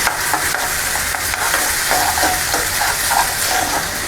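Samak rice (bhagar) roasting in a pan while being stirred, a dense continuous dry sizzle and scratchy rustle that stays loud and steady throughout, close up with no talking.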